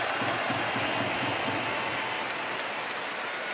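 Dense, continuous roar of a stadium crowd cheering and clapping for the winning pitcher at a pro baseball interleague game, Orix versus Giants, a steady wash of applause with no voices standing out.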